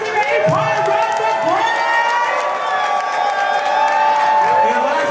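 A lively crowd cheers and whoops with scattered shouts, a steady loud roar of voices carrying through the whole stretch.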